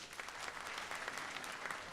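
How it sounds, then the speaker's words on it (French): Applause for an award recipient at a ceremony: a brief burst of dense clapping from an audience, fairly faint and distant, continuous for under two seconds with no talk. "Amchetou Maïga, encore une fois, qu'on applaudit."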